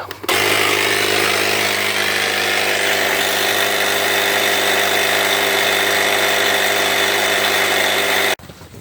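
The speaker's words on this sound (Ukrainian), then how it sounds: "Все, накачали ми четверте колесо." A ProCraft LK30 cordless air pump inflates a car tyre, a loud steady motor drone with a constant whine that runs unbroken for about eight seconds, then cuts off abruptly.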